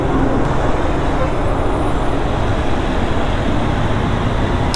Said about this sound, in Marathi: एवढं ट्रॅफिक आहे ना यार.